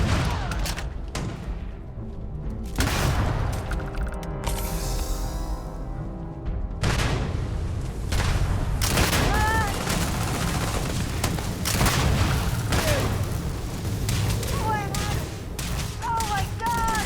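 Grenade launcher fire and explosions in the video game Starfield, a dense stretch of repeated booming blasts and gunfire lasting throughout, loud and continuous, with a voice talking over parts of it.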